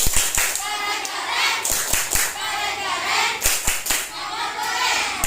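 Schoolchildren perform the 'tepuk keren' patterned class clap, sharp hand claps in a quick rhythmic sequence repeated in cycles, near and lively, with children's voices mixed in.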